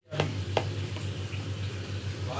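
Dried chillies, Kashmiri chillies and onion hit hot oil for a tadka on dal gosht, giving a soft, steady sizzling hiss over a low hum, with a couple of brief sharp clicks near the start.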